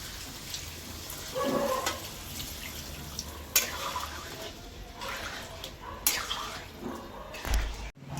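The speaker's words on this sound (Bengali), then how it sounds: "এখন হালকা গরম জল দিয়ে দেবো" Lukewarm water poured into a cooking pan holding paneer, a steady sizzling, splashing wash that runs throughout, fairly close and moderately loud, with no voices.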